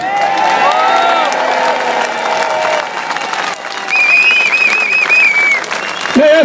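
A large gathered crowd claps and cheers in a loud, sustained burst of applause, with whoops and shouts rising over the clapping and a voice cutting in at the very end.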